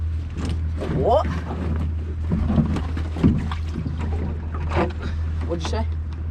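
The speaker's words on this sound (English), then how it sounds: "These big engines that you can hear, that's a boat called Tamar Racer" Big engines on a transfer boat passing a small inshore lobster and crab fishing boat produce a steady low droning hum throughout, under frequent nearby talk, with wind and water noise around it.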